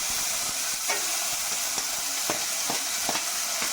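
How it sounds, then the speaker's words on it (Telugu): Chopped onions sizzle briskly in hot oil while a utensil scrapes and clinks against the pan every half second or so. "మనం ముందుగా చాప్ చేసుకున్న ఆనియన్స్ తాలింపులో వేసేద్దాం"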